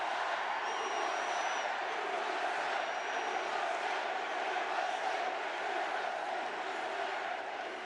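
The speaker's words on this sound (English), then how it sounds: "Is that a big crowd? A nice crowd." A big, steady crowd cheers and roars throughout at a Donald Trump rally in Montana, a dense wash of voices with occasional whoops, loud and continuous.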